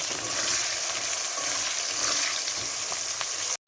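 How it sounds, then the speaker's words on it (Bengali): Sliced onions frying in hot salted oil in a kadai for chicken curry, a loud, steady crackling sizzle with faint bubbling that continues evenly without talk before stopping suddenly. "পেঁয়াজগুলোকে ভালো করে ভেজে নেবো।"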